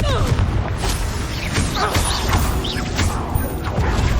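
The Confringo explosive spell goes off during combat in Hogwarts Legacy, with bursts and crashes layered over a dense, continuous wash of game noise.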